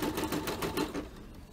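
A Brother embroidery machine runs an applique tack-down stitch, its needle tapping in a quick, even rhythm that is close and fairly soft before tapering off near the end.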